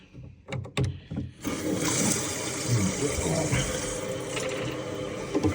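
Water rushes steadily into a toilet cistern through a Viva 4 in 1 fill valve, a loud continuous hiss and splash that begins abruptly after a few short knocks and carries on close up, without talk.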